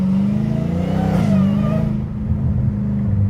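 A loud, throaty straight-piped, catless Dodge Challenger Hellcat Redeye engine revs hard and holds a deep rumble, then eases off and settles back to a rough idle.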